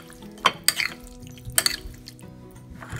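A utensil stirs pancit noodles with garlic, pepper and liver in a pan, scraping and clinking in a few sharp strokes over a soft background, close and alone.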